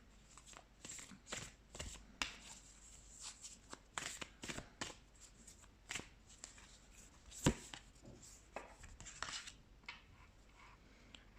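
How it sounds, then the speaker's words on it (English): Cards are riffled and shuffled in repeated quick bursts, crisp and close, with brief pauses between the flurries. "let's shuffle some more cards"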